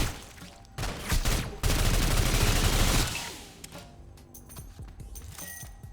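Gunfire in the video game Sulfur: loud bursts of shots, with a dense sustained volley in the middle, then sparser clicks and clatter as it dies down.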